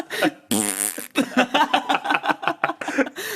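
A voice imitates a really loud fart with one long, buzzing blast, followed by chuckling and quick, animated talk.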